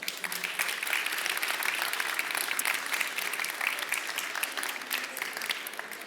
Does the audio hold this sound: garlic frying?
no